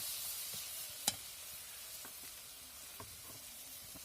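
Onions fry in oil with a quiet, even sizzle, broken by a few sharp ticks and pops, one clearly louder than the rest, and no voices.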